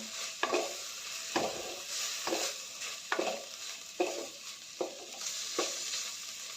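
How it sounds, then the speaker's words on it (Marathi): A spoon stirs roasted garlic, coconut, peanut and sesame paste into a sizzling aubergine curry, with about eight rhythmic scraping strokes over a steady hiss of frying, close and fairly clear. "वाटण घालून चांगलं मिक्स करून घ्यायचं आहे"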